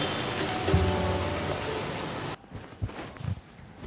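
Rain falls in a steady, dense hiss for a little over two seconds, then cuts off sharply, leaving a quieter stretch with a few soft thumps and rustles.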